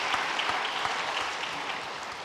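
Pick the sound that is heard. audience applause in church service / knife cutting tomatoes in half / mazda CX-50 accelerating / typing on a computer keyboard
audience applause in church service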